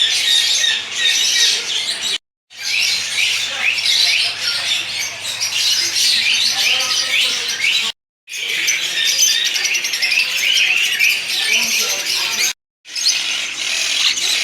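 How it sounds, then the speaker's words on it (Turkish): Dense, continuous chorus of parrots, including rosellas, lovebirds and cockatiels, squawking and screeching in a pet shop, loud and close, with several brief silent breaks between stretches of calls. "Renk renk papağanlar."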